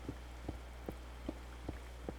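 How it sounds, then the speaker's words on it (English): Steady soft rain falling in the video game Minecraft, a constant low hiss with faint rhythmic ticks recurring about twice a second, quiet and without voices. "I'm not a huge fan of Minecraft rain."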